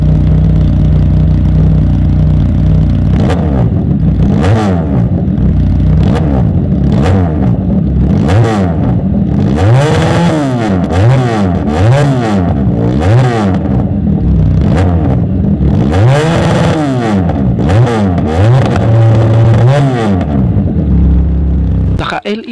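A Chinese-made sportbike styled like a BMW S1000RR revs hard near the microphone, with repeated sharp throttle blips rising and falling in pitch over a loud, steady engine idle.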